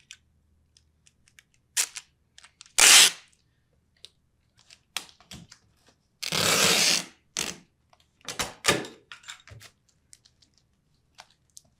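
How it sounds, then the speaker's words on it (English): Adhesive tape is pulled off the roll in a few loud, close ripping bursts and pressed onto the edges of a shipping package, with small tapping and handling clicks between the pulls. "now we're gonna tape the edges"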